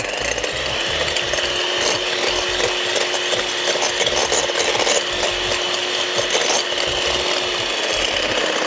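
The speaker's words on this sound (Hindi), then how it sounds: "अब मैं यहाँ 2 अदद अंडे पहले बीट कर लेती हूँ।" Two eggs beaten for a cake batter, a whisk or fork working steadily against the bowl in a continuous fast scraping rhythm, close and fairly loud, with no talking.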